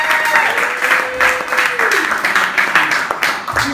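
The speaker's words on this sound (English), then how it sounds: "Give yourself a round of applause." A comedy-club audience claps steadily and densely, a sustained wash of hands with a sung or hummed tone drifting over it before fading slightly near the end.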